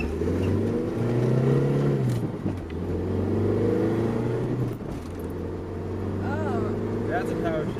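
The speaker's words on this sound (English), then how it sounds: "That's a power shift." A Toyota Celica RA65 with a W58 gearbox revving hard through quick power shifts, the engine note climbing, dropping abruptly and climbing again several times, with people talking briefly near the end.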